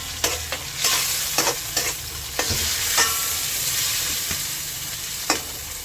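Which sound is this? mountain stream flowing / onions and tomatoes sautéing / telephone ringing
onions and tomatoes sautéing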